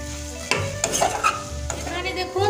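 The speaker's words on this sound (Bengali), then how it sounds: "আলুর সঙ্গে আরো একটু কষতে থাকবো" Boiled potatoes with spices being stirred and sautéed in a pan for a chicken potato chop filling, with scraping utensil strokes and steady close sizzling.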